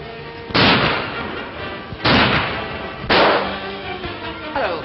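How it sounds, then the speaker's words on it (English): Three loud gunshots fired in a garden in a 1933 film, each a sharp blast with a long ringing decay, spaced about a second or more apart, close and prominent. "what were those shots in the garden?"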